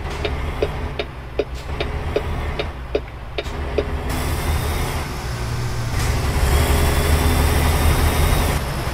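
A steady engine drone of cars passing a truck in American Truck Simulator with a regular ticking at first, the motor noise swelling and rumbling louder toward the end.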